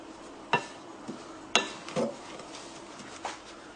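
Utensil scraping and clinking in a bowl while powdered sugar and a pinch of cream of tartar are mixed together: a handful of scattered, sharp ticks and taps over a faint steady hiss, fairly quiet and close, with no talking.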